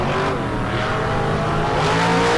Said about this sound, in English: The 58 Corvette, utilizing the throttle stop here this week in his traditional Super Gas trim.